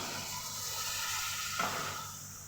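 Charmagaj (melon seed) paste drops into chicken frying with garlic and dried chillies in a pan, a steady close sizzle with a brief burst of hiss partway through as the paste lands, no voices.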